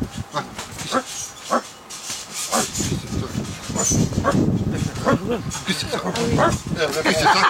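A dog barks in short bursts outdoors on a field, mixed in among overlapping voices and laughter.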